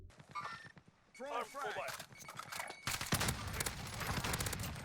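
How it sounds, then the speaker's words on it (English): Gunfire in the video game Warzone on Rebirth Island: bursts of automatic shots and rapid fusillades, with a player talking over much of the action as footsteps and other game sounds mix in. "there's an enemy shooting my blue teammate off to the left hand side"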